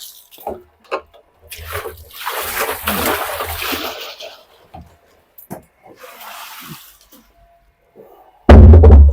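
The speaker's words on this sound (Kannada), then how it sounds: "ಇವಾಗ ಸ್ವಲ್ಪ ಡ್ರಮ್ ತೊಳೆದಿಟ್ಟರಿ ಹಂಗೆ ಒಂದು ರೌಂಡ್ ಮ್ಯಾಲೆ ನೀರು ಹೊಡೆದ" Water is splashed around the inside of a drum to rinse it, coming in a few irregular sloshing bursts between quiet gaps, with a loud thud at the end.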